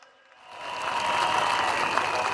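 A crowd at a political rally bursts into applause, rising quickly from near silence to a loud, sustained roar of clapping.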